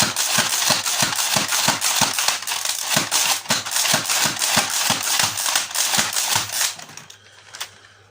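An X-Shot Omega toy minigun blaster fires rapidly, giving a fast, even run of about fifteen loud mechanical clacks. The firing stops abruptly near the end, followed by a couple of faint clicks, with no talk.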